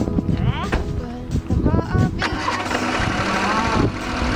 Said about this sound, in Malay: Startkan enjin.